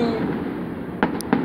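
Fireworks go off in three or four sharp pops over a steady rumbling background, with no voices in between.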